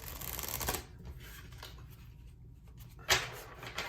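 Tarot cards are shuffled by hand close by, giving a soft papery riffle with several brisk bursts and one sharper flutter near the end, with no talking.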